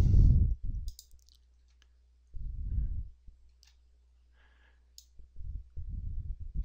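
Mouse clicks while working in Corel VideoStudio Pro X6 editing software, a few short sharp clicks close to the microphone, separated by bursts of talking.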